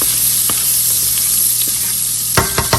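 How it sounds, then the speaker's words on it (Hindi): Butter sizzling as it hits hot oil with cumin in a pan for restaurant-style mattar paneer, a steady close hiss with a few sharp stirring scrapes and clicks toward the end. "अब मैं थोड़ा सा उसमें बटर ऐड कर दूँगी।"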